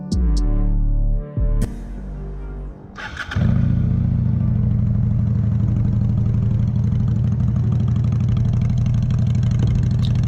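A 2001 Honda Shadow VLX 600 bobber motorcycle idles steadily and close, its low throbbing V-twin rumble settling into an even beat after a few seconds of brief revving and a pause.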